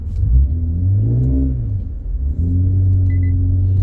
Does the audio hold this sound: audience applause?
no